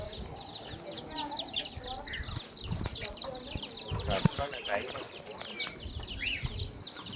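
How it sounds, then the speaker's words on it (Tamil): Chicks at a bustling fish market stall keep up a dense, continuous chorus of high cheeping and peeping, close by, with clucks, wing flutters and crowd noise mixed in beneath. "இது பார்த்தீங்கன்னா கோழி குஞ்சு."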